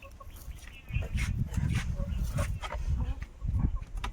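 Chickens clucking inside a hen house, a cluster of short, close, mid-loud clucks and scuffling sounds that begins after a quiet opening second, with a faint voice in the background.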